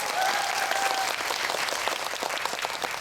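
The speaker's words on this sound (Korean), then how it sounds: "네, 박수 부탁드립니다." An audience at a Korean film talk event for the movie Remember claps loudly and continuously, a dense burst of applause that fades slightly toward the end.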